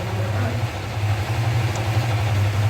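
A Chrysler Valiant AP6 engine runs steadily at a low idle-like rumble as the clutch is let out, a continuous near hum with no talking.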